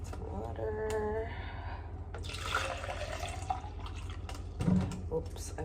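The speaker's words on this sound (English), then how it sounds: "we have the water. We'll pour it in my protein shaker" Water poured from a bottle into a protein shaker makes a close, steady splashing gurgle for about a second, between stretches of someone talking.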